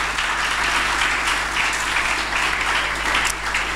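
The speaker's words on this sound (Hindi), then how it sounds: "तालियां बजाएं खुदावंद की।" Congregation applauding during an Urdu-language Pentecostal church sermon: steady, dense clapping that fills the whole stretch at an even level, with a low electrical hum beneath and no voices over it.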